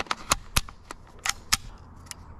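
Airsoft M4 with a grenade launcher setup firing at a helmet, several sharp snapping cracks in an irregular sequence, loud and close, each with a brief impact rattle.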